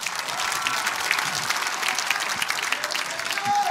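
A crowd at a political party appointment event applauds an acceptance speech, dense continuous clapping that holds steady throughout the short stretch.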